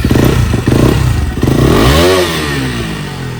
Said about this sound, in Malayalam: ഇപ്പം നമുക്ക് എക്സോസ്റ്റ് ജസ്റ്റ് ഒന്ന് നോട്ട് ചെയ്യിപ്പിച്ചു തരാം